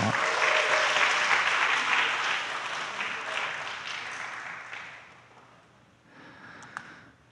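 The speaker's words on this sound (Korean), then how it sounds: "다시 한번 박수 가겠습니다" A church congregation at a Wednesday Bible study class applauds in a dense, sustained burst that gradually thins and fades over several seconds, ending in a few scattered claps.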